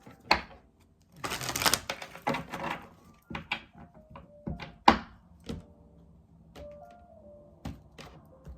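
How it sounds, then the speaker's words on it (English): Tarot cards are shuffled in a quick riffling burst, followed by a scattering of soft taps and thunks as cards are handled and set down. "Let's get some more shuffle for Leo."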